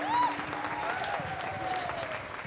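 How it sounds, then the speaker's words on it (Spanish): A church congregation claps together in steady, sustained applause with a faint voice over it, at moderate volume throughout. "Vamos, aplaude más fuerte."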